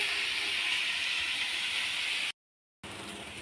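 Okra and onion sautéing in a hot pan for South Indian vendakkai varuval, a steady broadband sizzle and hiss that runs unbroken, cuts out briefly, then returns.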